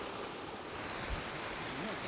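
Continuous, even roar of rushing water at a cascade near Touho, close and fairly loud, with no other clear sounds over it.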